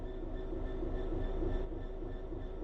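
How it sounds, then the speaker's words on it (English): A BR Class 66 diesel-electric freight locomotive in the Train Sim World 4 game, giving a steady low idling rumble with a faint constant whine, even and unchanging throughout, with no talk over it. "This is a BR Class 66 diesel-electric locomotive, typically used for freight operations in the United Kingdom."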